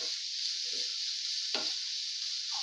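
Vegetables and green chillies sizzle gently in a little oil in a pan, a soft steady frying hiss with a few faint scrapes of a spoon stirring, quiet and close.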